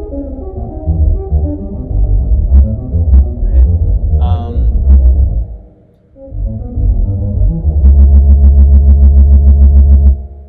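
An ARP 2600 synthesizer patch built in Max makes a loud, throbbing buzzy tone with shifting pitch and noise-controlled texture, briefly dropping out before returning as a steady pulsing drone.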